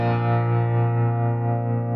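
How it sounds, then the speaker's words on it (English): Waves CP70 electric piano plugin holding a sustained chord with a fast tremolo, a rich, steady tone with a quick, even pulsing wobble over two seconds, alone and fairly loud. "Pretty fast tremolo."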